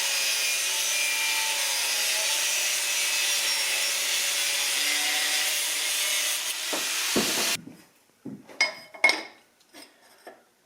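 A part held in a vise being cut during a 1976 Mazda RX-5 Cosmo restoration, a continuous loud grinding hiss for about seven seconds that cuts off abruptly, followed by scattered clanks and handling noises.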